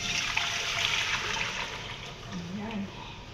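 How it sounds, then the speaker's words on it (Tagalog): Strained cooking water poured back into a pot while making Arabic-style rice, a steady broadband splashing pour that runs continuously and fairly close throughout. "Tapos, ibalik natin sa kaldero ang sinala natin na tubig."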